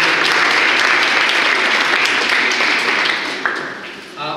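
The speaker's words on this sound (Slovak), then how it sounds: "Potlesk pre vás." Sustained audience applause fills a lecture on rhetoric and negotiation techniques, a dense steady clatter of many hands that thins and tapers toward the end.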